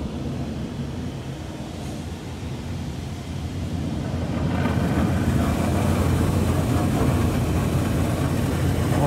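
Laser Wash 4000 automatic car wash spraying the undercarriage of a truck, a steady broad hiss of water jets that grows louder and denser halfway through, with machinery hum beneath.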